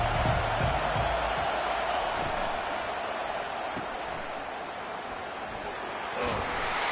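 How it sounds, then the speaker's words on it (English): Crowd at a college football stadium roaring steadily and loudly throughout, a dense wash of cheering with no clear breaks, swelling slightly near the end. "This crowd bringing an ear-splitting welcome to their visitors."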